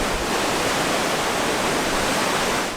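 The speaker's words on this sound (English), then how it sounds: "These are the Hucker Falls" Huka Falls on the Waikato River in New Zealand thunders in a dense, unbroken roar of rushing water, loud and close with no pauses.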